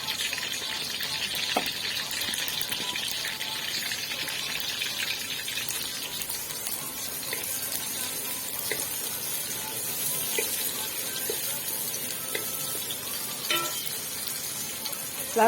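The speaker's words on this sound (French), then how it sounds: "On rajoute les oignons. Je vais faire revenir." Onions frying in hot palm oil for a spinach and okra sauce, a dense steady sizzle and crackle with occasional stirring clicks, close and continuous.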